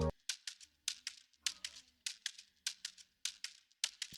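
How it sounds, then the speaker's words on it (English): A shaker for an Afrobeat groove plays a quick rhythmic pattern of crisp, hissy shakes, fairly quiet, with faint low drum hits beneath. "This is how my shaker sound like"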